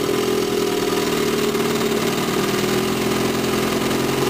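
A 1954 Evinrude Fleetwin 7.5 hp outboard motor with new coils, points, condensers, carb kit and water pump runs at a steady idle, a loud, close, even drone with no talk over it.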